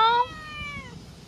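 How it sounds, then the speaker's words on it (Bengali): A cat gives a single clear meow up close, a short falling cry that fades out within about a second, leaving quiet room noise. "এই দেখো সেই ম্যাওটা এসছে"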